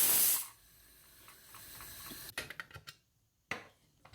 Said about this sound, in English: Can you see steam coming out?